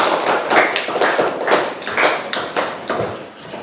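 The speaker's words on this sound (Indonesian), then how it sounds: "kasih tepuk tangan" Students in an Indonesian classroom give a round of applause after a group presentation: a dense, steady run of sharp hand claps lasting several seconds, fairly close and with no talking.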